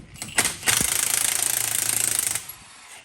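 A gear puller works a part off a Toyota manual transmission shaft, making a loud, fast rattling burst of rapid impacts lasting about two seconds, with a sharp knock near the start and quick fade at the end.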